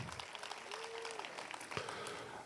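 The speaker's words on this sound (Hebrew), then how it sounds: "מותר לכם לפרגן גם לעצמכם ולמחוא כפיים לעצמכם" An audience at a high school graduation ceremony applauds, a soft, steady patter of many hands clapping at a distance, with a brief voice over it.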